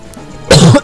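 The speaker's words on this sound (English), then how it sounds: "I apologize for that cough." A single harsh, close cough bursts out sharply after a short stretch of quiet room noise.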